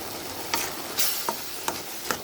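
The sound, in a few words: stirring chutney with salt in pan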